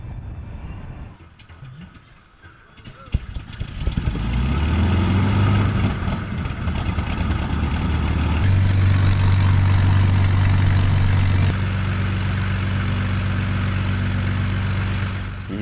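Twin piston engines of a wooden WWII aircraft start up and run, first coughing and catching, then settling into a loud, steady, throbbing drone that rises in pitch as they are run up, with no talk.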